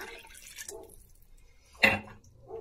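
Liquid is poured into a paella pan, heard as quiet dripping and trickling followed by one brief, louder splash as the cups of liquid go in.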